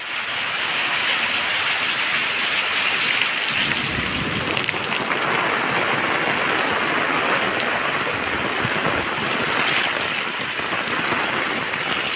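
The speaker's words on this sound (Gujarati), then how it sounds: "અરે દંદુડા કેવા પડે" Heavy rain with big drops pours steadily on open farm fields, a loud, dense, continuous hiss and patter with no voices.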